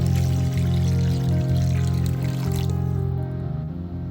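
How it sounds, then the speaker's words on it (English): Water pours steadily into a pot of softened onions, bell pepper and celery for Louisiana crawfish stew, a continuous close splashing fill over a kitchen hum that thins near the end. "Pour in water."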